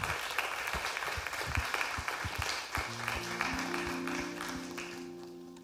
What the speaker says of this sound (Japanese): Give them one round of applause.